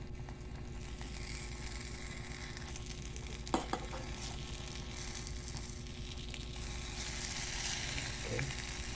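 Slices of Tulip luncheon meat fry in a pan with a steady, close sizzle throughout, broken by a couple of sharp clinks of a utensil on the pan near the middle.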